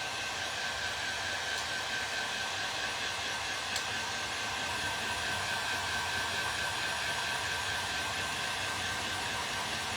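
A hair dryer blows steadily and close for the whole stretch as painted old hand garden rakes and a wood chisel are dried, a constant whirring hiss with a faint whine and no voices.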